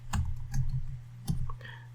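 A computer mouse clicks twice, about a second apart, sharp and close, over a steady low electrical hum.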